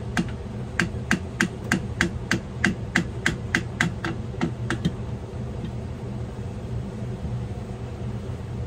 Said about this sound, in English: I'll tap it gently with my little hammer.